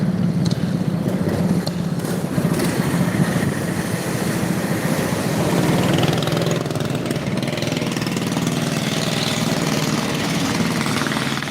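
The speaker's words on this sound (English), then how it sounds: "Those cool little mini bikes that just went by." Small engines of mini bikes passing by outdoors, a steady buzzing motor drone that rises and fades slightly, moderately loud against open-air background noise.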